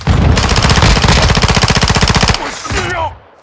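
Rapid automatic gunfire from the video game Call of Duty Modern Warfare II rattles in a fast, loud, continuous burst for about two seconds, then cuts off into brief game effects and fading noise.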